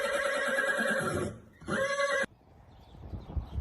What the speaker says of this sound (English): Horse runs at high speed.